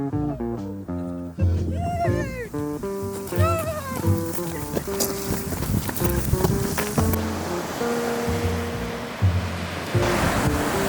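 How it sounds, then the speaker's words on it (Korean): Ocean waves break and wash along a coast in steady, loud roaring surf, with wind noise and musical or vocal tones layered over the water throughout. "파도 파도"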